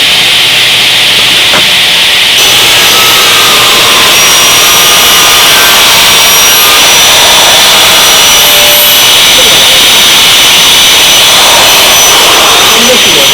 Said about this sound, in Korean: 이번에는 4T 톱날을 교체했습니다. 절단을 한번 해보도록 하겠습니다.